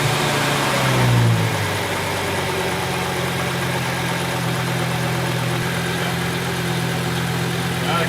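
A Volvo 850 engine cranks briefly and catches, then settles into a steady, even idle that holds loud and close under the hood for several seconds.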